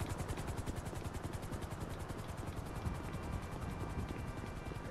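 A video-game helicopter in GTA Online, its rotor chopping in a fast, steady pulse with a constant mechanical whir, faint and continuous throughout.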